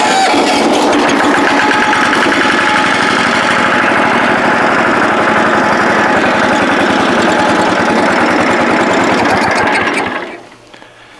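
A small tractor engine runs loudly and steadily with a rattling, buzzy mechanical drone for about ten seconds before cutting out abruptly, with no talk over it.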